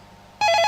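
A telephone bell suddenly starts ringing loud and close after a short quiet moment, a bright continuous trilling ring.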